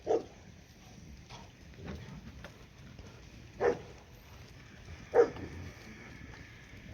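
A dog barks a few times at a distance on a farm with goats, sharp isolated yaps spaced several seconds apart over a faint outdoor background.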